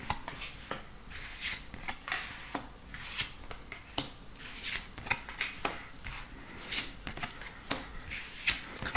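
Oracle cards being shuffled for a tarot reading, a steady series of soft riffling and slapping bursts repeating at an even rhythm, close by and fairly quiet.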